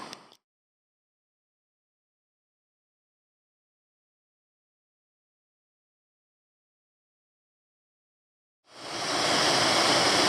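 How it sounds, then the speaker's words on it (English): Canungra Falls, a waterfall on the West Canungra Creek Circuit in Queensland: a brief rush of falling water at the very start, then near silence, before a loud, steady broadband roar swells in near the end. "This is Canungra Falls"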